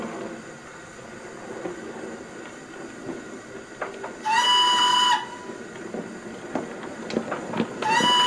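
A steam locomotive, a rumbling rolling train with clanking and clicks, broken twice by a loud sustained steam whistle blast, the second one near the end.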